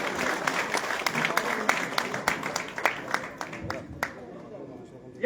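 A crowd at an election rally gives a long round of applause for the candidate, with sharp claps that are dense at first and then thin out toward the end, under some background talk.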